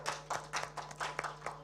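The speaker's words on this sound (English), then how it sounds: "give applause to the great speaker today" Scattered, fairly faint hand claps from a small seminar audience at a health international conference in East Borneo, irregular and sparse over a steady low electrical hum.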